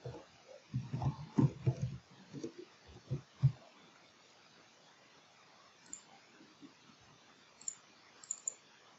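Computer mouse clicks and keyboard typing while filling in a registration form, a cluster of quick close clicks early on, then sparse faint taps in a quiet room.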